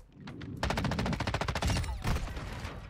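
M13B rifle firing in a video game: rapid full-auto bursts of close, loud shots, one long burst and then a shorter one after a brief pause, with no speech.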